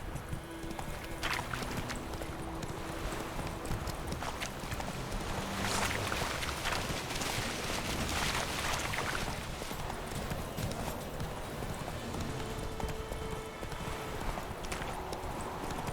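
Roach, Geralt's horse in The Witcher 3, clip-clops along with steady rhythmic hooves, heard at mid distance under a continuous bed of game ambience.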